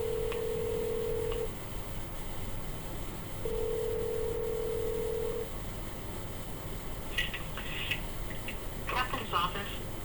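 A phone line on a sheriff's office call transfer gives two long steady ringback tones, a short one then a longer one after a pause, followed by short beeping and chirping signal tones near the end.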